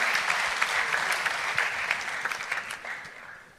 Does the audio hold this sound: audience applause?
yes